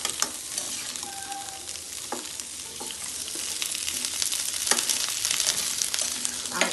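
Flat beans and potatoes stirred in a frying pan while cooking with pumpkin leaves and tomato, a steady sizzle running throughout with occasional scraping clicks of the spatula, close and moderately loud with no talking.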